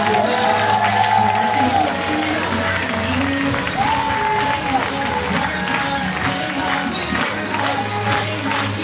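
Applause with cheering from an audience at a training event in Moscow, steady and dense throughout, with a host's voice calling out over the crowd noise in places.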